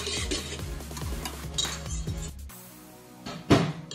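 Ingredients being mixed in a bowl for ube cheese pandesal dough, with rhythmic clinking of a utensil against the bowl, then a pause and a louder knock.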